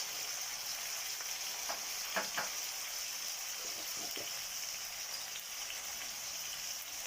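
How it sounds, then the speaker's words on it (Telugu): Tomato, green chilies, curry leaves, cumin, mustard seeds, turmeric and salt fry in hot oil, giving a steady broadband sizzle with a few soft stirring scrapes near the middle, heard close and alone without speech. "వీటి ఒక 2 నిమిషాలు ఇట్లా ఫ్రై చేసుకున్నామండి"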